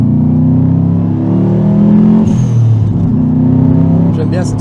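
Subaru WRX with a 290 hp engine pulling at full throttle in fifth gear, a loud steady low drone heard from inside the car with people talking over it and a brief whine near the middle.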